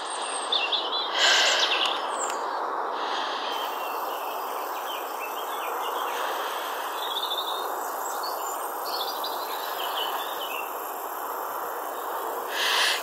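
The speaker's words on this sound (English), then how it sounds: "you can hear the birds" Birds sing faintly in countryside woodland among bluebells and green trees, scattered chirps and short phrases over a steady broadband hiss of distant road traffic, with no talking.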